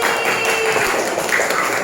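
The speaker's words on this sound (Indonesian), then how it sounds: "Tepuk tangan sekali lagi." A classroom applauds a student group in a short, dense burst of clapping that stays at an even loudness throughout.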